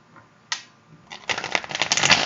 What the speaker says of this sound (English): Get a better shuffle here